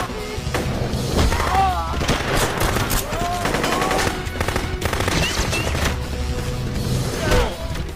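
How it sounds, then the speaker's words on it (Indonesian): Rapid bursts of gunfire from a shootout between rebels and police in a film crackle almost continuously, loud and dense, mixed with booms and whistling tones like a chaotic action-scene soundtrack. "tembak-tembakan antara pemberontak dan polisi terjadi"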